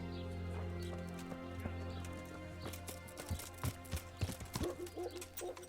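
A horse's hooves clip-clop in Kingdom Come: Deliverance, starting midway as irregular, close hoofbeats on hard ground over a low, steady background drone.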